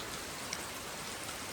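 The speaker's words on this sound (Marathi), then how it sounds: "खूप भारी असा पाऊस चालू झाला आहे" Heavy monsoon rain pours steadily around a house, a dense, even hiss of drops falling on surfaces nearby with no pauses.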